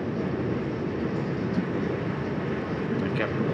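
A CPTM Line 11 Coral commuter train in São Paulo rumbles along toward the Radial Leste, a steady, loud low roar heard from on board with faint rattles and no voices.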